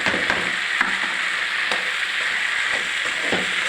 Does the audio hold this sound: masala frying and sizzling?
yes